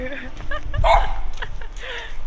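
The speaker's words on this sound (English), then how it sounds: "Dog's gonna bark at me." A dog on a sidewalk gives several short, sharp barks and yips close by, mixed with people talking over street noise.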